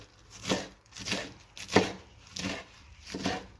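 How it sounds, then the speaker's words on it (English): A knife roughly chops bok choy on a cutting board, about five to six distinct, evenly spaced thuds, close and clear with no talking. "Chop them both roughly."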